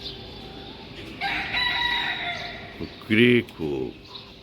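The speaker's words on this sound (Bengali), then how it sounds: "মোরগ বলতেছে উঠো তাড়াতাড়ি ঘুম থেকে ওঠো" A rooster crows once at dawn, a long, strained call somewhat distant over a quiet background, followed by a few brief spoken words nearby.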